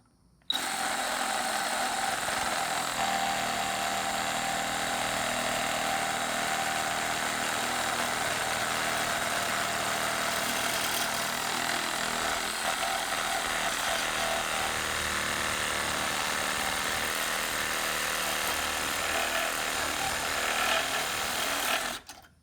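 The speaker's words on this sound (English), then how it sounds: "take our Sawzall and cut right here like that" Sawzall reciprocating saw cutting through a weld on a golf cart, a loud, steady buzzing rasp that runs unbroken for about twenty seconds before stopping abruptly.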